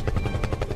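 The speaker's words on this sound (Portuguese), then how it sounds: "Cadê meus helicópteros?" Helicopter sound effect inserted into a Brazilian TV news-comedy segment, a loud, steady rotor chop with rhythmic beating pulses throughout, alone with no voices.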